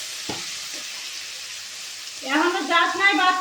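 Tomatoes fry with salt in a pan for a mutton curry, a low steady sizzle that runs underneath, joined near the end by a person's voice.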